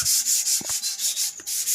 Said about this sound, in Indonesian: Untuk proses pengamplasan kita gunakan amplas dengan grade 400 dan sistem pengamplasan kering